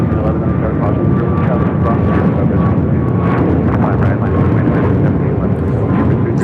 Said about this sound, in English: Alaska Airlines 9803 taking off to Burbank. Short hop over on a MAX 9